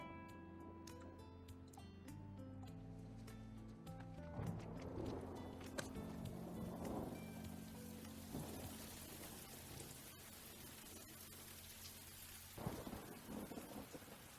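Steady rain falls on surfaces with low rumbles of thunder rolling underneath, a louder crack and swell near the end; a low musical tone runs beneath the storm.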